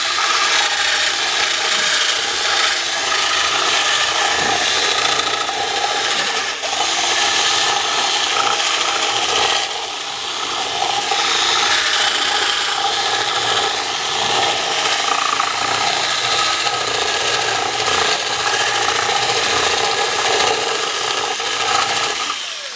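Electric drill boring through wood while building a short-circuit check lamp, a continuous harsh grinding whir that runs the whole time, close and loud, with a brief dip in intensity partway through.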